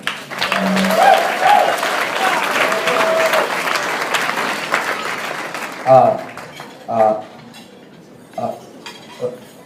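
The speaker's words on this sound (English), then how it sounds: "Everyone give a round of applause for Adam." Wedding guests applaud at a reception, a dense burst of clapping over the first six seconds with some clinking of dishes, then tapering to a few scattered claps and faint murmurs.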